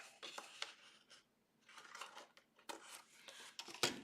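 Scissors trim the edge of paper or card for a handmade suitcase album, giving a few close, crisp snips and rustles spread through the stretch, with a sharper snip near the end.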